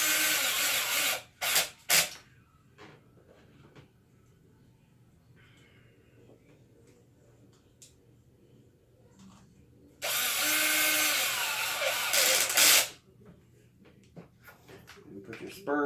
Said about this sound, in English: as soon as the slightest amount of resistance hits the drill, the clutch slips